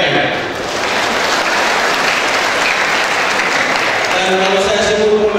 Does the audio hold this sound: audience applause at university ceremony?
yes